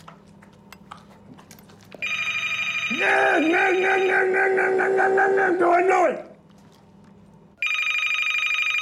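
A telephone bell rings in loud repeated bursts indoors, stopping after a few seconds and then starting again, while a person speaks briefly over it.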